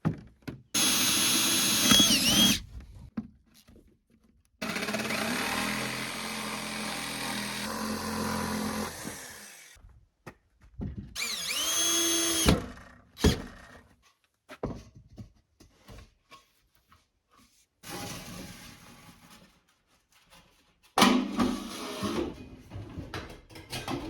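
A power drill bores holes through the steel end walls of a shipping container tiny house, with several separate bursts of whirring and grinding broken by quiet gaps and handling knocks, close by.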